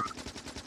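Rapid automatic gunfire from the Factorio video game, a steady stream of close, evenly spaced shots rattling without pause through the short burst.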